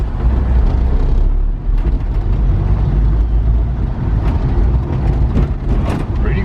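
A 1992 Suzuki Carry 4WD kei truck on small 12-inch wheels driving over a bumpy, rutted road, with a steady engine drone, knocks and rattles from the cabin and bed.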